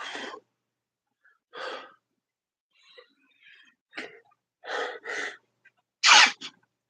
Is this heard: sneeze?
yes